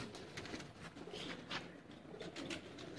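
Pigeons coo quietly on a rooftop loft in Sialkot, low murmuring calls repeating faintly against a noisy outdoor background.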